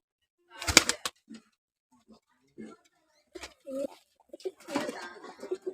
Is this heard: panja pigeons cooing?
yes